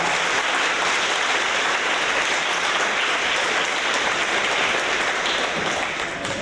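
Sustained applause from an audience at a 4th grade awards event for trivia bowl students, a dense even clapping wash that holds steady throughout, with faint voices beneath.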